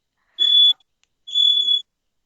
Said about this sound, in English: the alarm's just going off